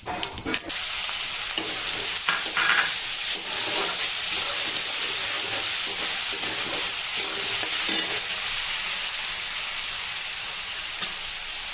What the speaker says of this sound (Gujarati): હવે તેમાં આપણે જીરું એડ કરી દઈશું